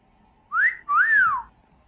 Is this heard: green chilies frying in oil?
no